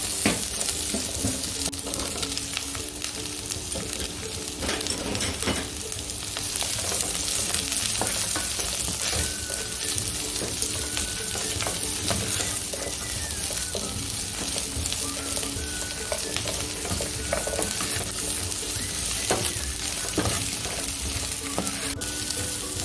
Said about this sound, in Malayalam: വെജിറ്റബിൾസ് എല്ലാം ഒന്ന് ചെറുതായിട്ട് വഴണ്ട് വന്നിട്ടുണ്ട്